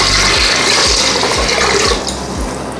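Water pours steadily into a cooking pot of beef for Kabuli beef pulao, a continuous loud splashing rush with a slight drop in level near the end, no voices.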